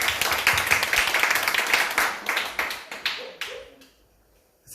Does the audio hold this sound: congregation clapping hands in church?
yes